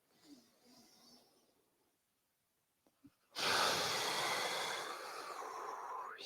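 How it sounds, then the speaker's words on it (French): A person breathes audibly during a home exercise routine, a few soft breaths then near silence, followed by a long, loud, close exhale with a rushing, breathy quality. "J'expire profondément. J'inspire. J'expire."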